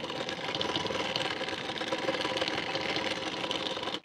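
A sewing machine stitching the fitting seam of a collar-neck blouse, a steady rapid mechanical whir close by that runs continuously for a few seconds and stops abruptly.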